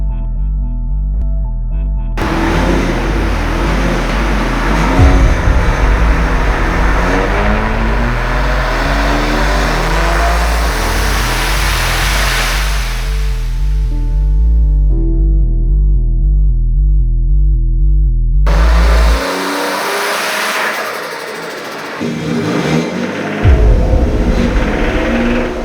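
Tuned Nissan Skyline engine roaring on a dyno, a loud sustained pull with rising harmonic tones lasting most of the run, a brief drop-off, then another loud burst of revving.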